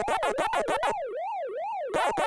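Pac-Man's wavering electronic siren from Pac-Man Museum Plus, heard alone in the middle, with quick chirping game effects before and after it.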